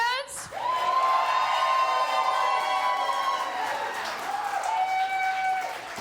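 Comedy-show audience at a live roast-style contest cheering and whooping over steady clapping, a sustained crowd roar lasting several seconds before tapering slightly.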